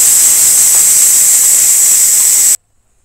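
Steady loud hiss of steam escaping from a pressure cooker on the stove while potatoes and fenugreek leaves cook, continuous and close, then cutting off abruptly into silence.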